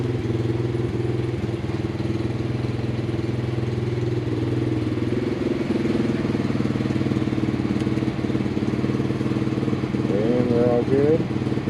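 A Suzuki Katana motorcycle engine idles steadily in a shop, a close, continuous low rumble with an even throb and a little mechanical clatter throughout.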